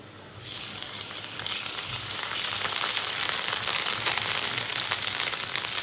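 Ginger paste dropped into a pan of frying potatoes sets off a close, steady crackling sizzle that grows louder after the first second and holds evenly, with no voices.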